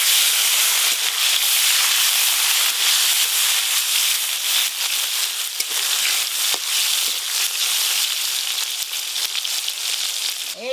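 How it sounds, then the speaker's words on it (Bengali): Chopped tomatoes sizzling in hot oil at the start of a river fish curry, a loud, continuous hiss and crackle with scattered pops that holds steady throughout. "প্রথমে গরম তেলে টমেটো কুচি দিয়ে দেব।"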